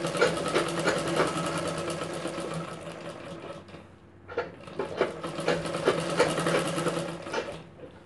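An electric sewing machine runs steadily, stitching a seam on a princess-cut cup blouse. It keeps up a fast, even mechanical whir with one brief pause midway before starting again, with no voices.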